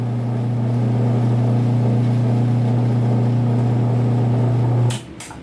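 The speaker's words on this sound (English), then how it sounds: "when I push this red push button switch to stop the motor again" A small electric motor hums steadily and loudly on its own, then cuts off abruptly when a push button switch is pressed, leaving a couple of brief clicks and a fading rundown.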